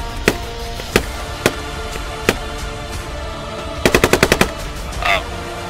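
Gunfire in the video game Squad: scattered single shots ring out, followed by a quick burst of five or six rounds and a softer distant thump, loud and close with no talk.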